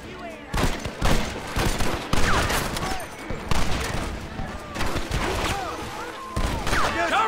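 Gunfire from Red Dead Redemption rattles in rapid, repeated bursts of close, sharp shots over several seconds, with voices shouting in among the volleys.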